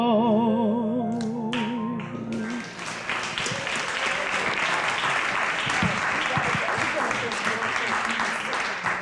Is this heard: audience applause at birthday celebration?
yes